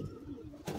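White pigeons coo at close range in a loft at an old zamindar house, a low rolling burst that swells again near the end over faint background noise.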